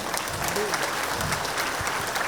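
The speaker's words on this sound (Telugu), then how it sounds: "మీరందరూ కూడా నమ్మితే గట్టిగా చప్పట్లు కొట్టాలి." Crowd applause at an outdoor rally, a continuous wash of clapping from many hands, moderately loud and steady for a couple of seconds.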